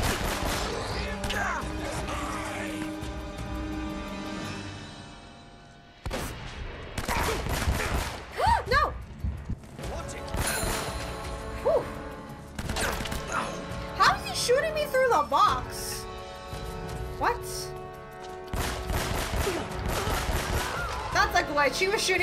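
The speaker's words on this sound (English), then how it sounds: "She was shooting me through the box." Enemy gunfire in Uncharted: Drake's Fortune: repeated loud rifle bursts and single shots with crashing impacts, broken by a short pause, amid game action and voices.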